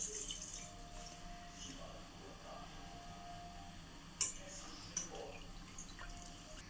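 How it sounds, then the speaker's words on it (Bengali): Water is squeezed out of soaked bread slices in a quiet kitchen, giving a few faint drips and small splashes spaced a second or so apart over a low background hum. "ভালো করে জলটা নিংড়ে নিতে হবে।"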